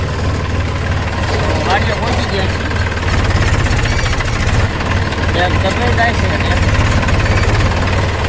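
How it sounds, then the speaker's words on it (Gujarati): A farm tractor engine runs with a loud, steady rumbling chug throughout, close by, while someone talks over it. "ટ્રેક્ટર કીટી દીધું તો હાંકવાનું ચાલુ"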